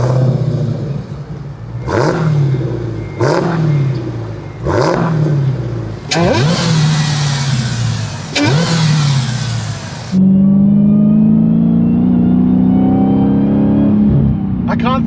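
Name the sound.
Dodge Challenger Hellcat supercharged engine whine while accelerating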